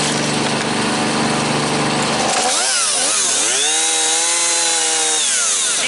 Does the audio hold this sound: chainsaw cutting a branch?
yes